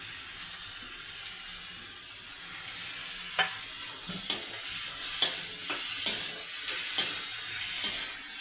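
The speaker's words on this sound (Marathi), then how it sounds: "चांगला त्याला परतवायचा आहे, चांगला मऊ होईस्तोवर" Onion and tomato sautéing in a pan for a rustic Maharashtrian sukat curry: a steady sizzle with a spoon scraping and stirring in a series of clear knocks, close and alone with no talk.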